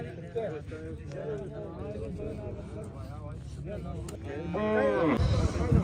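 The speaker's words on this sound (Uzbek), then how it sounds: "O'tgan oqshom tug'gan ekan, mana shu sigir" A cow that calved the night before lets out a few lowing moos close by, mixed in with people talking over the farmyard background.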